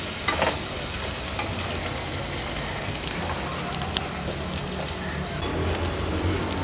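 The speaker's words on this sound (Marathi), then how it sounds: "कांदा आता छान गुलाबी रंगाचा होईपर्यंत शिजवून घ्यायचंय।" Chopped onion fries in a pan over a low flame for mutton curry. A dense, even sizzle, like rain on a surface, continues throughout with a few faint clicks and no speech.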